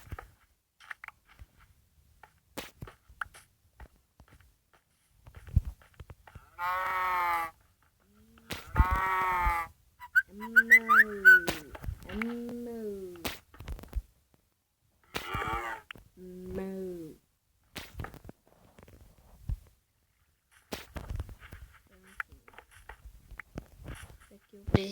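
Cows mooing in a video game, several separate drawn-out moos heard close and clear between stretches of quiet, with a person talking at times.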